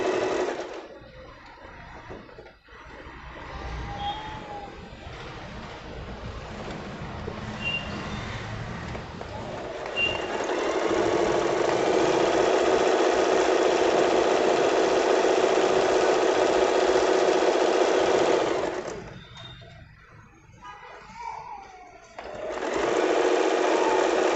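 An Usha Janome Excella DLX sewing machine stitches at high speed, a steady loud mechanical whir that builds and holds, pauses briefly, then resumes running.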